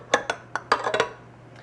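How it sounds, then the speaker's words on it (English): Eggs and almond extract being stirred into peach torte batter in a bowl, a handful of quick clinks and taps of utensil against the bowl, close and fairly soft, followed by a quiet pause. "And we'll give this a stir to combine."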